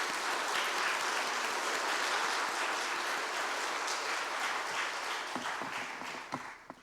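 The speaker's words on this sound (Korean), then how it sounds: "박수로 축복하겠습니다." Congregation applauding during a church dedication service for a retirement blessing, a steady broadband wash of many hands clapping throughout, thinning toward the end with a few isolated claps.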